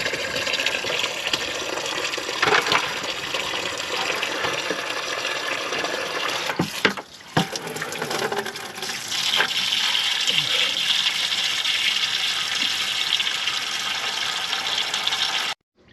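Coolant pouring out of a Detroit Diesel 12V71 engine in a 1973 Peterbilt 352 cabover into a bucket, a steady close splashing gush with a brief clatter partway through.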